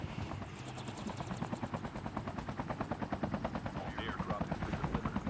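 A video game helicopter's rotor chops in a steady, rapid rhythm, growing a little stronger toward the end, with player voices faintly underneath.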